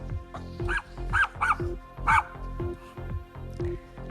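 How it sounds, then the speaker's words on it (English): A dog whimpers and yelps in excited, joyful bursts, a string of high-pitched cries and short barks repeating in an uneven rhythm, close and clear with no talking. "And tears of joy from a dog."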